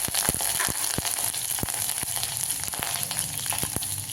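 Mustard seeds and curry leaves crackle in hot oil for potato bonda, a loud continuous frying sizzle broken by sharp, irregular pops and spits, close and with no voices.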